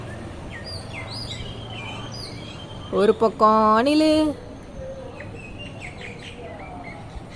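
Bird calls ring out in an outdoor nature setting, a short loud burst of several clear, tonal calls in the middle while a person talks throughout.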